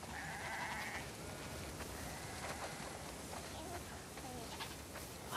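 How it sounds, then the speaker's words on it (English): In The Last of Us Part II, several sheep bleat in wavering calls over a steady background hiss, one drawn-out bleat near the start. "Wow, that's a lot of sheep."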